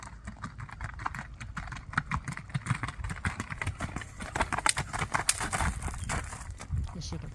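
Hooves of a six-year-old palomino and white Tennessee Walking Horse walking on a loose rein, a soft, irregular clip-clop of repeated footfalls, fairly close, with a little background noise and a voice now and then.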